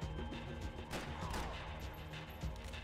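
Gunfire in the PC game Max Payne 3, a dense, steady run of loud shots and impacts packed close together, with a few sharper bursts standing out.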